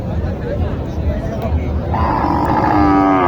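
A cow lows loudly over the steady babble and bustle of a busy crowd at the Mataji cattle market in Naogaon, the long moo rising in the final second.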